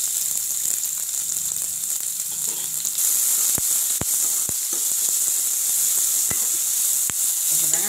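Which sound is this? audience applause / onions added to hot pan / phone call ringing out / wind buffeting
onions added to hot pan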